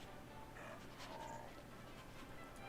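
A dog whimpers in Fallout 4, with a few soft whines and yips over a quiet, even background hum, faint and close.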